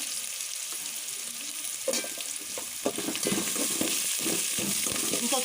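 Curry leaves sautéing in a pan alongside green peas, a close crackling sizzle that turns busier and more sputtery partway through as the leaves hit the oil, with occasional stirring and no speech.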